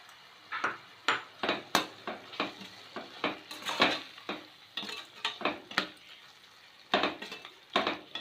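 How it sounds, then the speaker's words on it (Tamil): Tomatoes with mint and coriander sauté in a pan, a soft sizzle under frequent sharp scrapes and clinks of a spoon stirring against metal, close and rhythmic, with no voices. "இது நல்லா கொஞ்சம் நேரம் வதங்கட்டும்"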